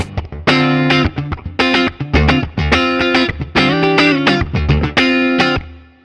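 Distorted electric guitar chords played in short bursts, then a reverb tail swells and lingers as the playing stops.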